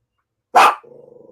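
One loud, close bark from a dog indoors, followed by a brief low growl trailing off.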